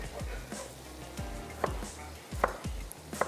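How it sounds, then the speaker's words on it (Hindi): Tomatoes being chopped on a board with a knife, giving a steady series of close, crisp chops at a moderate rhythm, several sharp blade strikes clearly audible with no talking over them. "टमाटरों को भी हम थोड़ा सा कर लेते हैं चॉप"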